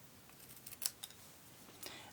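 Scissors snip through paper while a small pendant end is trimmed for a Stampin' Up! Storybook Moments card project, giving a few quiet, quick cuts close by with no talking.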